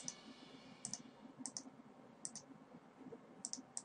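Computer mouse clicks in a League of Legends game lobby: sharp, crisp single and double clicks spaced irregularly over a faint background hum, with no talking.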